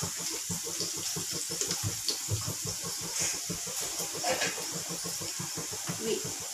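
Steady running water from a kitchen tap while soaked flattened rice (poha) is rinsed, a continuous splashing hiss with rhythmic gurgling pulses throughout, close and moderately loud, with no talking.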